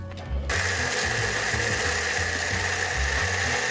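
An electric mixer whirs as it switches on and then runs at a steady, loud, close drone with a rhythmic mechanical pulsing while it whips egg whites, with no talking.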